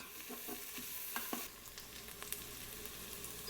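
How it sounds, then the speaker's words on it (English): Chopped onion sautés in an Instant Pot with a soft, continuous sizzle, punctuated by a few scraping stirs and light clicks from a spoon, heard fairly close but quiet, without any voice. "Now add the chopped onion. Sauté for a few minutes until they turn clear and start to get some brown edges."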